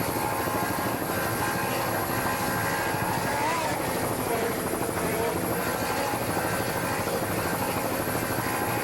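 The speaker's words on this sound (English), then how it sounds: "listening to those Johnson V8 motors put out a lot of power" Johnson V8 outboard motors on race boats in Newburyport, Massachusetts drone steadily in a loud, continuous buzzing roar that fills the whole stretch, with slight shifts in pitch and no break.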